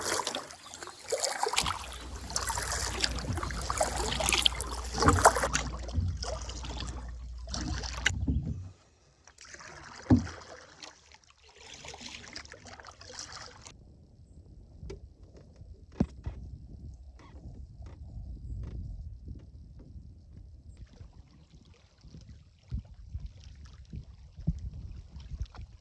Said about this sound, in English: Just paddling past